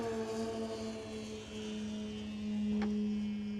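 An AM850 RC 3D aerobatic plane's motor runs steadily at a distance, a constant droning hum with a slight rise in pitch and loudness toward the end, and no voices.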